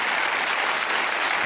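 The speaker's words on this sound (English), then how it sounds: "Give them a round of applause." Dense, steady studio audience applause on the British darts game show Bullseye, a continuous even roar of many hands with no talk over it.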